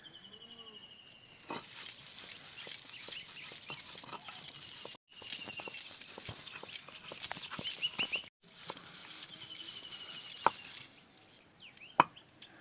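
Bottle gourd peel ground into a paste on a grinding stone, a steady scraping rub with sharper knocks and thuds at irregular intervals, two short pauses, nearby and fairly loud with no talk.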